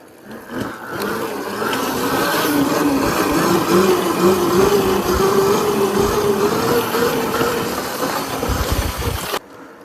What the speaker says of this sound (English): I gotta send it off with at least one good wheelie.